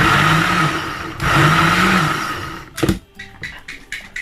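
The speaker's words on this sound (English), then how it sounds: "then I give it a shake because this is my blender" A kitchen blender pulses okra soup ingredients in two loud whirring bursts with a brief pause between, then rattles and clatters as it is shaken.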